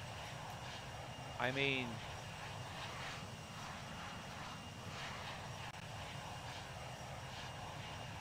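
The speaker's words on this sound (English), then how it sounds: "this guy's not doing a good job taking off an airplane, really." An airplane taking off in Microsoft Flight Simulator, a soft engine hum under someone talking, with a brief rising whine partway through.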